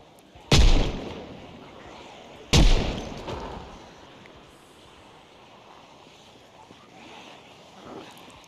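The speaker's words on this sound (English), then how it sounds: "Shoot a couple more shots." Gunshots in the video game Project Zomboid: two loud, booming shots about two seconds apart, each with a rolling tail, over a windy ambient background with faint later thuds.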